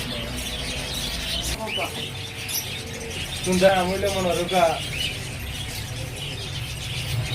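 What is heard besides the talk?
pigeons calling in a loft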